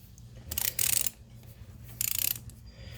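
Cylinder bolts on a Honda CR85R top end are tightened with a torque wrench, giving two short bursts of rapid ratchet clicks, close and fairly quiet, separated by a pause.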